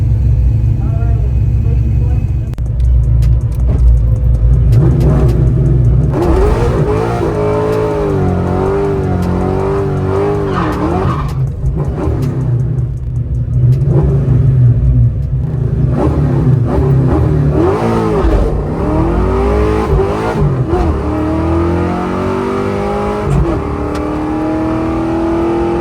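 A 351 Windsor stroker engine in a drag car labors hard during a run, a loud continuous droning rumble with wavering pitch that strains and struggles rather than climbing cleanly, close and dominant for the whole stretch.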